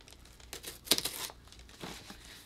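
Cardboard package being cut open, with brief crinkling and tearing sounds and a sharp scrape at the cut, quiet and close with no talk.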